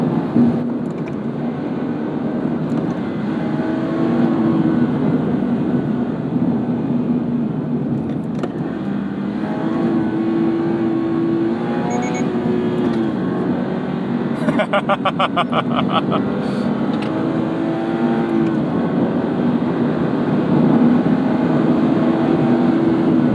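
A Toyota GR86 with a Subaru FA24 2.4-liter boxer four driving fast, its engine a steady loud drone that rises and falls through gear changes, with someone talking over it throughout.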